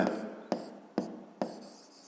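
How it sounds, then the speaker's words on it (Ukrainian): Pen or pencil writing the answer to a fifth-grade math exercise, heard as four quick scratchy strokes at a steady pace, close and fairly quiet, with no talking. "Ну, а зараз записуємо відповідь. Пишемо тоді відповідь."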